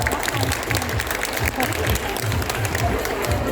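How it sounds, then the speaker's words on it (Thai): An audience claps for a guest presenter at the award ceremony of a Doraemon singing and dancing contest, a dense, steady round of applause from a crowd that carries on through the whole stretch. "ขอเสียงปรบมือให้คุณกิ๊กด้วยครับ"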